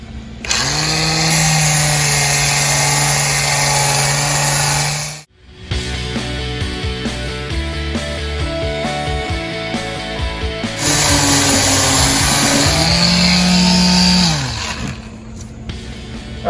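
Power sander working on a boat skeg, a loud close whine with harmonic tones that rise and fall as the tool loads and eases, pausing briefly before running again.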